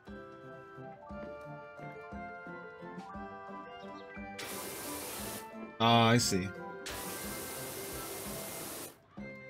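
A pressure washer sprays in PowerWash Simulator while a filthy merry-go-round is cleaned, giving two long loud hissing bursts with a short sharp noise between, over background game music, and someone speaks briefly.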